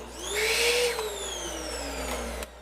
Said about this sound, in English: I got a vacuum.